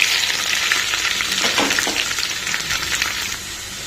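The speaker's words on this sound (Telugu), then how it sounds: "ఇప్పుడు మనం ఆల్రెడీ కట్ చేసి పెట్టుకున్నటువంటి ఆనియన్స్ వేసుకున్నాము ఇది శనగ నూనె అండి" Chopped onions fry in groundnut oil for a Telugu gongura curry, a loud, steady hiss and crackle running throughout with a few brief stirring scrapes near the middle.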